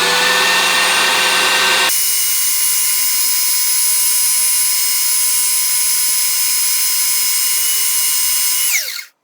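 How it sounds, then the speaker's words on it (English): A rotating power sander grinds a blade with a loud, steady high-pitched whine and rough scraping at the start, running continuously before winding down abruptly at the end. "after a few seconds of rotating on the sander, you can see that my angle is off"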